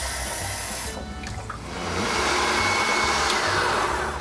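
Food processor mixing gnocchi dough, a loud close motor whir that drops briefly and then rises to a steady roar.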